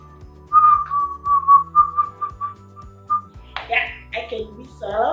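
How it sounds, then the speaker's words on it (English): A person whistles a playful tune of short, bright notes close to the microphone, then breaks into speech. "can I whistle? Yeah, I can whistle."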